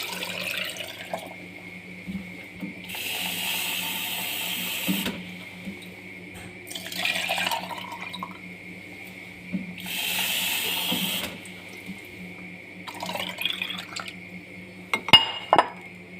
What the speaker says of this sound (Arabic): مبدئيا هحط ميه ساقعه من الحنفيه